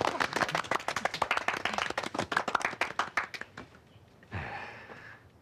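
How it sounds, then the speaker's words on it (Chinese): A small group claps with uneven, overlapping hand claps for about three and a half seconds, then the applause trails off into quiet, followed by a short burst of rustling noise near the end. "鼓掌啊！"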